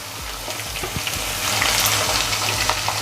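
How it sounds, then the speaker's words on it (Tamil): Garlic cloves and curry leaves fry in hot oil for a garlic kulambu, giving a steady, close crackling sizzle with scattered pops and spits throughout, no voices over it. "இந்த பூண்டு கொஞ்சம் நல்லா ப்ரௌனிஷ் ஆகட்டும்."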